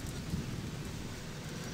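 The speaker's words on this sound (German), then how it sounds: "Jetzt regnet es wirklich." Steady rain with a low rumble of thunder in the video game Gothic 2, a continuous wash of rainfall at moderate level with no talking.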